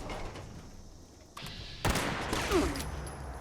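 Gunfire from Fallout 76 weapons, including plasma and rifle shots, breaks out in sudden loud blasts followed by a rattling spray of shots and noisy impacts against a low background.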